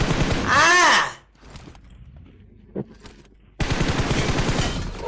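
A loud burst of rapid gunfire in an esports match gameplay, followed by a quieter lull with a single sharp pop, then dense noisy action resumes.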